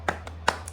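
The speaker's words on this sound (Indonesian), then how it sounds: "Kita akan tepuk semangat supaya kita bergairah kembali" Students clap a short classroom cheer rhythm, with two louder sharp claps and two lighter taps in under a second, close and crisp over a low steady hum.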